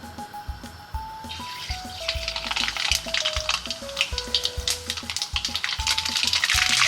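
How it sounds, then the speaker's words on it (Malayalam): Mustard seeds crackle and splutter in hot oil in a pan, a dense run of sharp pops that gets busier and louder, with a faint melodic tone running underneath. "ചൂടായ എണ്ണയിലേക്ക് നമുക്കൊന്ന് കടുക് പൊട്ടിച്ചെടുക്കാം."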